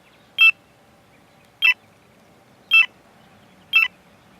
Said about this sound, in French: les touches retour ou départ en avant sont également différenciées sur la centrale, par le son, comme on a entendu